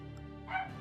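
A single short dog bark sounds faintly in the background of a Valkyria Chronicles game session, over steady game music.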